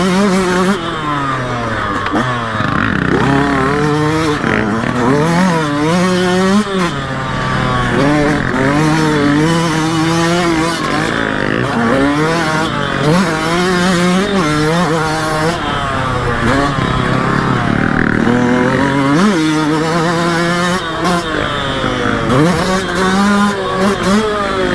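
A Yamaha YZ125X two-stroke dirt bike is ridden hard, its engine repeatedly revving up and dropping through gear changes in a rapid, buzzy, wavering pattern, loud and close for the whole stretch.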